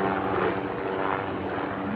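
Coast Guard helicopter flying overhead near a lake, a steady, loud broadband rotor and engine drone with no talk.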